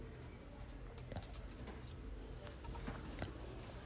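Brown Lalsira pigeons kept by a pigeon seller give soft cooing with a few light wing flutters and faint chirps, heard over a steady low background.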